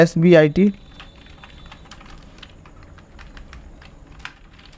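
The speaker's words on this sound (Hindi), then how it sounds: "नंबर 3 यहाँ पे मैंने टाइप कर दिया, फिर एंटर प्रेस किया।" Typing on a computer keyboard in a computer class, a quick run of light, irregular key clicks following a brief spoken word at the start, fairly close and quiet against a soft background.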